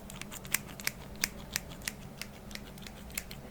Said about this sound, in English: I will just use real scissors that make an actual sound.